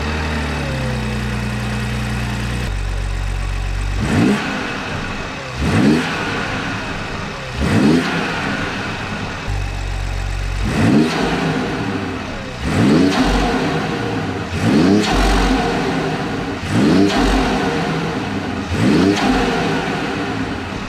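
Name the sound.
BMW 540i xDrive engine revving with BMS performance intake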